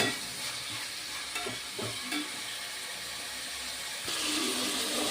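Onions sauté in a pan for a chicken roast, a soft, steady sizzle broken by a few stirring scrapes, with the hiss swelling slightly toward the end.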